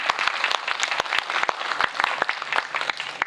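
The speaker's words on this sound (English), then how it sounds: "please give them a big round of applause" An audience claps for the finalists of a university English poetry writing and recital contest in Macao, a full, even round of applause with sharp individual claps standing out near and clear throughout.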